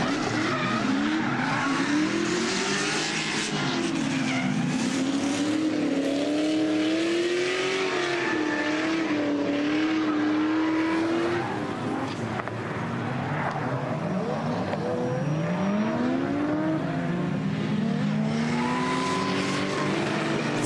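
Drift cars at the Nürburgring Falken Drift Show, including a 630 hp car, with loud continuous engine roar rising and falling through gear changes and tire squeal as the cars slide past, no talking.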